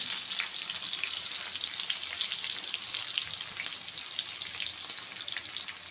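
Onion frying in oil with green chillies, a steady, dense sizzle crackling close and loud throughout with no pauses.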